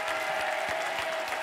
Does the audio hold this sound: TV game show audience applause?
yes